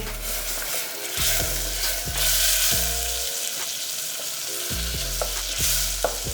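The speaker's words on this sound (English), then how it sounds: "we're gonna fry up the vegetables and the sweet corn" Vegetables and sweet corn frying in melted butter in a hot pan on a stovetop, a steady close sizzle with repeated scraping and stirring clanks, with no one talking.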